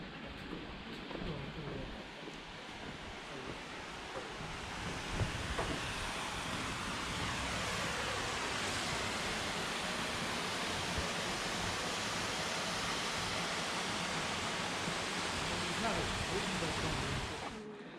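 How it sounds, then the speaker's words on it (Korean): Flowing water near a village bridge in Austria, a continuous broadband rush like a stream or small waterfall. It is steady and faint throughout, with occasional soft footsteps or movement underneath. "물소리가 나는데?"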